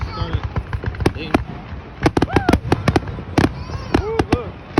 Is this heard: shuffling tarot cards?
no